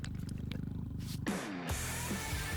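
A pet cat purrs in the Borderlands 4 video game, a close rhythmic rumbling purr that gives way to a louder growling roar with game sounds.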